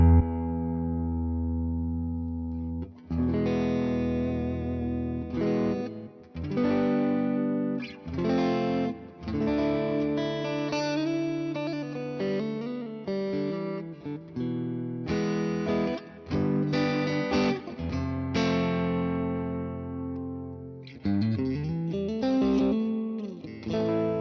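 An electric guitar on the neck pickup, played through the AC20 amp model of the Neural DSP Morgan Amp Suite: bright, sparkly chords and single-note phrases ring out with sustain and short pauses, loud and alone, no talking.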